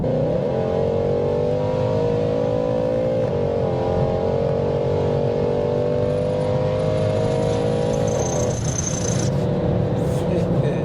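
A 780bhp Weistec-tuned Mercedes C63 accelerates hard to around 70 mph, its engine note loud and close as it climbs steadily, with a gear change and a brief lift near the end.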